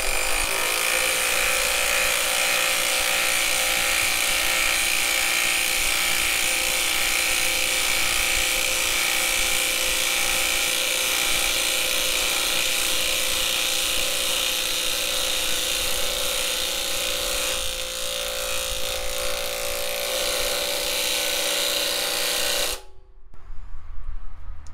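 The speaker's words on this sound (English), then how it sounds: "it felt like the impact wrench didn't struggle as much, like it had more juice to give using this power stack battery" A cordless 20V impact wrench on a 2 amp hour battery drives a half-inch lag screw into timber, giving a loud, steady hammering whir for about 22 seconds before it cuts off abruptly.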